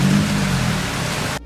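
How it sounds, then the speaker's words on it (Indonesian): Heavy rain pours down steadily in a dense, loud wash of noise during a stop while driving toward Cikarang, ending abruptly. "Ini posisi hujan besar."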